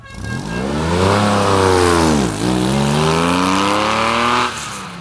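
A 1969 Chevrolet Corvair Corsa engine revs hard and loud, rising in pitch, dipping briefly mid-way, then climbing again before easing off at the end, with no talking.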